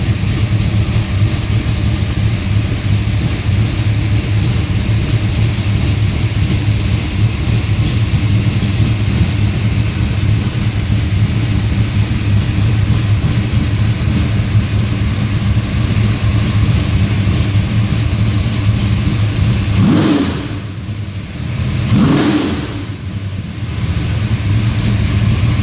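A DCI Motorsports 535 tunnel port big-block engine, pump gas and about 850 horsepower, idles with a loud, steady low rumble in a cold shop, then gives two sharp revs near the end.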